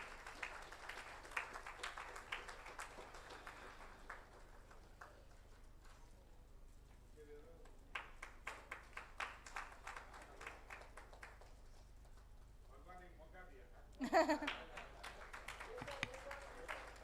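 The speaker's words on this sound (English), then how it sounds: "A big hand of applause from all of you." An audience at a workshop applauds in bursts of scattered clapping, light and somewhat distant, with spoken announcements and a brief loud noise near the end.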